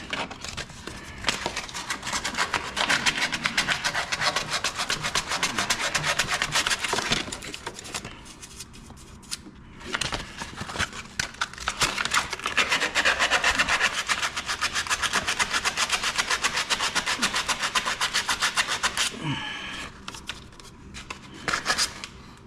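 Paint sanded off metal on a 2023 Polaris Slingshot to expose a grounding point, loud rapid abrasive scratching in long continuous bursts with short pauses between passes.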